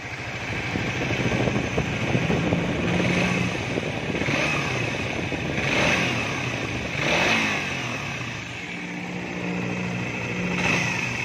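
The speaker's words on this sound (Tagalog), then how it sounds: "Ganito yung tunog ng kanyang makina." A Suzuki Raider 150 Fi motorcycle engine idles steadily and revs up several times in rising, falling swells, close by.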